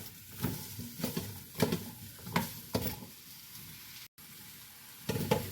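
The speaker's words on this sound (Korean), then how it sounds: "참기름을 좀 넣고 고춧가루를 넣고 소고기하고 같이 이렇게 불에다가 무 색깔이 입혀지도록 지금 볶고 있습니다." Radish and beef stir-fry with sesame oil and chili powder in a pan for Gyeongsang-style beef radish soup, sizzling under repeated scraping strokes of stirring, with one brief dropout.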